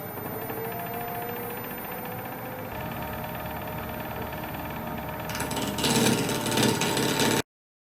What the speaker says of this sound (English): I'm going to start shaping the outside of the bowl